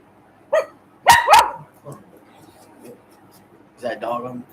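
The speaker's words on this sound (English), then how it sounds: "Is that a dog in the monitor?" A dog gives several short, sharp barks in separate bursts: one early, a quick double in the middle, and a final cluster near the end. The barks are close and fairly loud, with quiet room sound between them.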